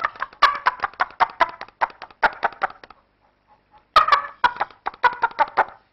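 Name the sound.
plastic cup with wet string imitating a clucking hen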